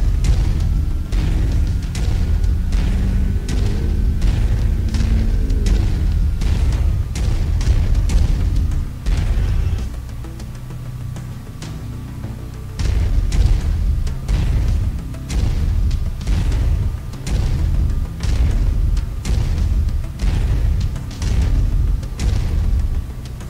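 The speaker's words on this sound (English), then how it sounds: "I've mapped the autocannon to weapon group one. You're free to fire whenever you're ready." Autocannon fire in MechWarrior 5: Mercenaries comes as a long stream of heavy, booming shots in quick rhythm, loud and close, with one short pause partway through before the firing resumes.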